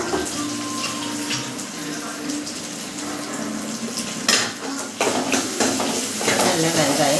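Onions frying in a pan until golden for sambar make a continuous close sizzle, with occasional stirring scrapes and bursts of louder crackle toward the end.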